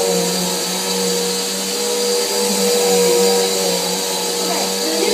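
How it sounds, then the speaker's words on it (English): A household vacuum cleaner runs steadily while vacuuming a house, a loud, constant high-pitched whine with a whirring motor tone and slight shifts as it moves, and a voice speaks briefly over it. "So now I'm going to vacuum too."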